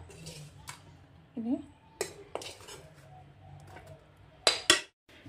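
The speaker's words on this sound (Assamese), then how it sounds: "এইখিনি এইটো প্লেটত উঠাই লৈ আছোঁ" Utensils clink and scrape against a plate as fried vegetables are served, with a sharp clatter near the end and a voice in between.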